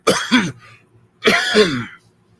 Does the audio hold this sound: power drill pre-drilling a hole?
no